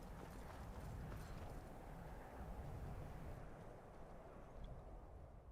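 Horse hooves in the Skyrim video game, a steady rapid clip-clop of galloping that stays loud and continuous throughout, with a rumbling low background and no talk.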